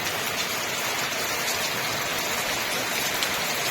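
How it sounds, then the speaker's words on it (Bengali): Heavy cyclonic rain pours down steadily in the Sundarbans, a dense, continuous roar of drops hitting surfaces, loud and close with no voices. "প্রচণ্ড বৃষ্টি হচ্ছে"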